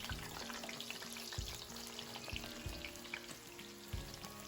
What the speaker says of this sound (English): Heat up coconut oil and directly slice the banana into the hot oil.